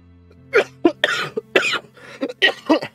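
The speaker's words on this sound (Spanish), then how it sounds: "Llevo ya una semana con la tos, no se me va." A person with a week-long lingering cough lets out a rapid series of harsh, close coughs and throat-clearing bursts, about eight in three seconds, over a faint steady background tone.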